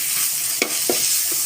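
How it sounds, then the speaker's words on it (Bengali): Raw spice paste fries in a pan with a constant hiss, while a few sharp scrapes and knocks of a spoon against the pan break through as it is stirred. "ভালো করে ভাজলে কাঁচা মশলার ঘ্রাণটা চলে যাবে"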